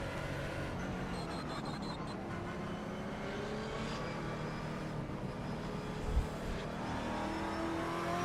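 Ford Mustang GT4 race car engine droning steadily in iRacing at the Nürburgring, a continuous loud in-car hum with gently shifting pitch as the car holds speed, a brief thump midway, no speech.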